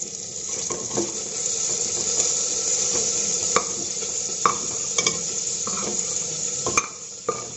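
Pork frying in a pan with bamboo shoot, a steady hissing sizzle with occasional sharp pops and light stirring clicks, close and even, with no talking.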